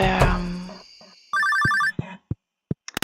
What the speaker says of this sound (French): on va répondre au téléphone.